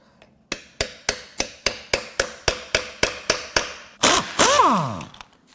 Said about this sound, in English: Tap it in with a little hammer.